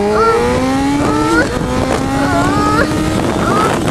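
A Honda CBR 1000 RR superbike engine rises in pitch as the throttle is twisted, easing back and rising again through several revving sweeps, loud and close under wind rush.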